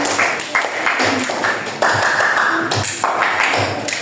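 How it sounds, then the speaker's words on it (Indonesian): Classroom applause as students clap for a presentation, loud close claps with sharp taps and some voices mixed in, uneven and varying in strength over several seconds. "Oke, beri tepuk tangan."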